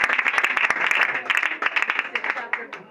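A congregation at a Sunday testimony service claps in praise, a lively burst of many hands with uneven rhythmic peaks, close and loud, with voices mixed in.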